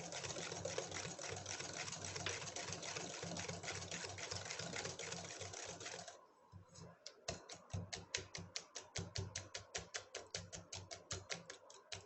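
An electric mixer beats eggs and sugar for a Swiss roll cake batter, starting with a dense continuous whir, then breaking into a rapid rhythmic rattling of beaters against the bowl, close and steady.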